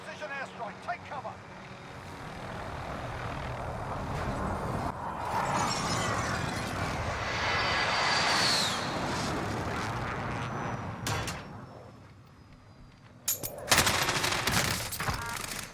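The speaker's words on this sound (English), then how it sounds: "Enemy precision airstrike, take cover." Enemy precision airstrike in Call of Duty Warzone: a swelling roar of aircraft and rumbling blasts with scattered gunfire builds and fades, then sharp loud explosions hit near the end, with a voice talking throughout.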